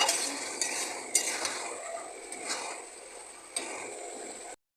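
Hilsa fish heads cooking down with water lilies in a pan are stirred with a utensil, giving close scraping strokes and clinks over a soft, continuous sizzle.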